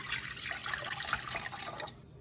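Yeast dissolved in water pours into a mixing bowl for focaccia dough, a steady close splashing trickle of liquid that runs for about two seconds before cutting off abruptly.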